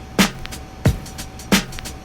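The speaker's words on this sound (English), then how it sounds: "I just have some drum loops that sound like this" A sparse drum loop: heavy kick-like thumps with sharp snare hits roughly every two-thirds of a second, lighter hi-hat ticks between, fairly quiet and dry.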